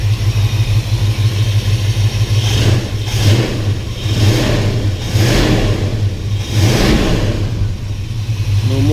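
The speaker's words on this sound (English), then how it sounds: "This thing starts right up. There. It's running." A 1973 Plymouth Satellite car engine running close by, with a steady low rumble punctuated by four or five repeated throttle revs that swell and fall, loud and without talk.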